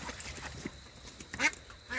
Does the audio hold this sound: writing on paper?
no